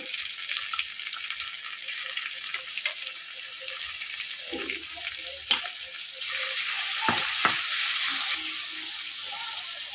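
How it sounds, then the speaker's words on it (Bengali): Ginger spice paste with dried chillies and garlic frying in a pan for coriander-leaf pickle, a bright continuous hiss of oil with a few sharp scraping stirs, close by, growing slightly louder toward the end. "দিয়ে মশলাটাকে একটু ভেজে নেব"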